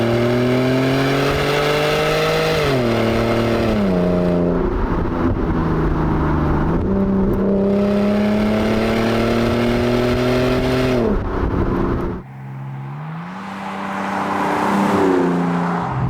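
A loud, close 3.2 V6 engine of a 2008 Alfa Romeo 159 Q4 revs and holds high, dropping and climbing in pitch repeatedly, with a throaty multi-cylinder growl, then briefly cuts and rises again.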